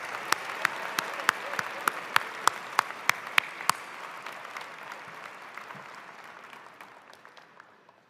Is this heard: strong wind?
no